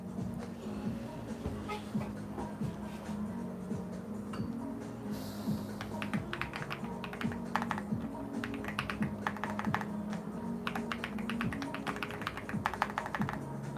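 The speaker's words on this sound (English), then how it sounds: "I think this keyboard sounds amazing too." Rapid, irregular clacking of a computer keyboard fills the scene, continuous keystrokes close up with occasional louder taps, over a low background hum.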